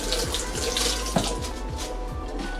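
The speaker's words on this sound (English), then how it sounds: "Let me rinse my hands so y'all can see clearly" Tap water runs steadily into a sink while hands are rinsed beneath it, a continuous close splashing with small shifts as the hands move through the stream, no talking.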